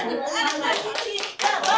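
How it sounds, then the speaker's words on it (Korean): A group of people clap together at a community urban regeneration gathering, a short burst of hand claps heard up close with voices speaking over it. "박수! 박수!"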